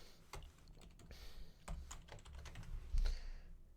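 Typing on a computer keyboard while editing R code, a quick irregular run of close key clicks and clacks at low volume in a quiet room, without talk.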